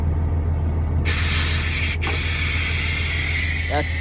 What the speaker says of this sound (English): that noise you hear in the background, that's the pressure coming out of the pressure cooker